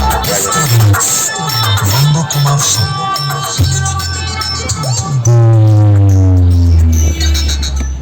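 Loud amplified music from a festival sound system at a roadside event near Shankarpur beach, heard from inside a passing car: heavy throbbing bass and sustained tones fill the cabin continuously, with no voices.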